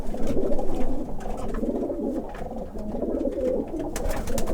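Racing pigeons cooing in a loft, a continuous low throaty chorus of overlapping coos filling the space, fairly loud and close.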